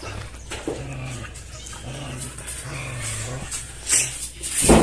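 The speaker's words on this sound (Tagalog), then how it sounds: "The dogs are hungry." Hungry dogs at a dog shelter, with low growls and whimpers from several animals at close range alongside food and bowl noises, the sounds swelling louder toward the end.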